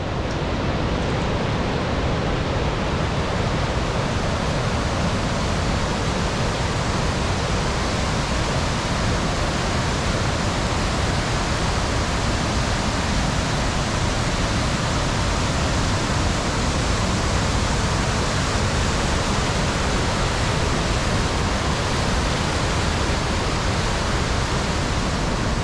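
Henrhyd Falls in winter roars continuously, a loud, dense, unbroken rush of falling water heard up close for nearly half a minute with no voices over it.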